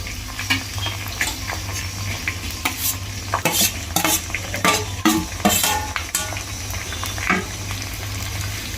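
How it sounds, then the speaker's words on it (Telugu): Onion goes into hot oil and is stirred, giving a steady sizzle broken by loud scraping and clattering of a utensil against the pan in an irregular rhythm. "సో ఇప్పుడు ఆనియన్ వేసుకుంటున్నాం."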